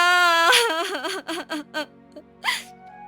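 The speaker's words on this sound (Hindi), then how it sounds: "अपनी पत्नी की रोने की आवाज सुनकर" A woman wails and cries in distress, starting with a high, drawn-out quavering cry and breaking into short sobbing bursts, close and clear with nothing behind it.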